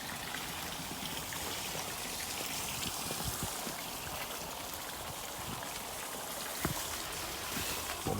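A pond waterfall system runs during a wet test, water pouring and trickling steadily over fresh pipework, a continuous close splash with occasional drips.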